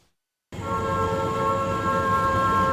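A CSX freight train sounds its horn, a steady sustained chord blaring in after a brief silence and holding loud and unbroken.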